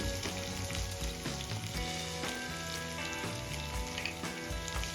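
Curry leaves and chopped coriander stirred in hot oil in a pan for a puffed-rice breakfast dish, giving a steady close sizzle and frying crackle with scraping stirs, no voices.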